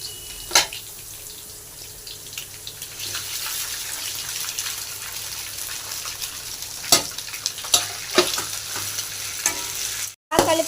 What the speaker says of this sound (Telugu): గోబీ వేసుకుందామండి. బాగా కలుపుకుందామండి.